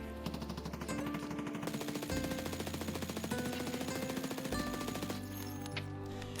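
An MPX submachine gun in Escape from Tarkov fires long, continuous automatic sprays, a dense rapid rattle of shots that stays loud and unbroken for several seconds, with no voices.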